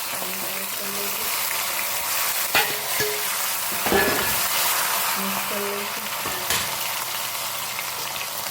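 Mustard seeds sizzle in a few spoons of hot oil while a spoon scrapes and clinks as the pan is stirred, with a muffled voice faintly underneath.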